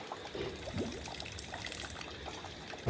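Floodwater inside a flooded mill, a faint continuous trickling and pouring of water with small splashes, steady and fairly distant with no voices.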